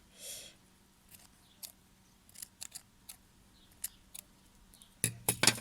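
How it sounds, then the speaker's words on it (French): Scissors snip loose threads on a fabric drawstring mask: a soft rustle opens, then a series of crisp, isolated close clicks spaced irregularly, ending in a few louder snips. "Il y a encore des fils à couper."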